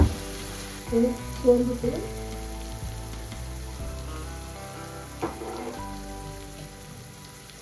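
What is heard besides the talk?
onions and fennel sautéing in oil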